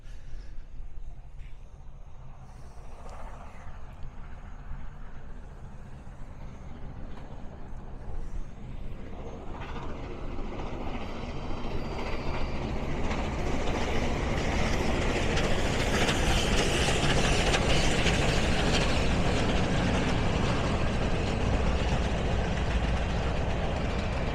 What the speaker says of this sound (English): I see the train a-comin'. It's coming round the bend.